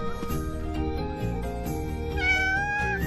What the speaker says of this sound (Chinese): 笨蛋小猫咪。